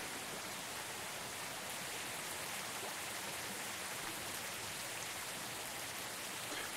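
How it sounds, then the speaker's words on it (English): Steady rain pouring in the rainy streets of the video game Rainswept, a dense, even hiss with no breaks that stays constant and fairly close throughout. "Might as well get out of the rain quickly."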